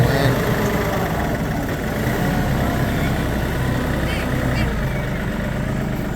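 A Kioti NS 4710 tractor engine running at about 1000 RPM under load, a steady close diesel drone with a continuous low rumble and no breaks.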